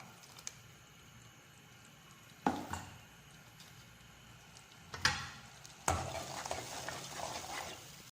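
Ginger, garlic and spices fry quietly in a pan with a low continuous sizzle, broken by a few sharp stirring scrapes and a brighter burst of frying near the end, with no voices.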